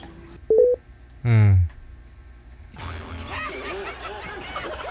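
Telephone keypad tones beep twice in short bursts, followed by quiet chatter and light laughter in a studio setting, with people talking in the background.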